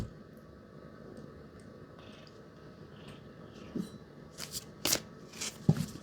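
Pulp Tarot cards being shuffled by hand, soft quiet rustling that grows into sharper riffling bursts toward the end, close and faint against a quiet room.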